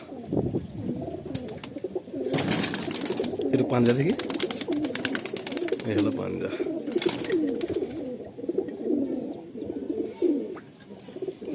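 A prized breeder pigeon held in the hand coos in soft, repeated throaty rolls close by, mixed with rustling and someone speaking over it.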